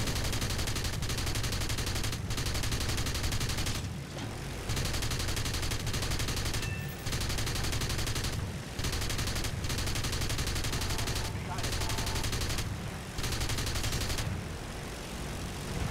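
Aircraft machine guns rattle in long, dense bursts during a flight combat video game, nearly continuous with a few brief pauses, loud over a steady engine drone.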